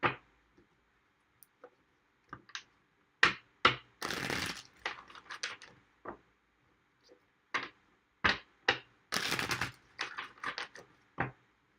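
A deck of tarot cards being shuffled: scattered sharp card clicks and taps, broken by two longer riffling bursts of flapping cards, heard close up in an otherwise quiet room.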